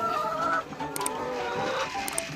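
Laying hens cluck in a farm coop on a winter night, soft scattered clucks and murmurs that are fairly faint, with no talking.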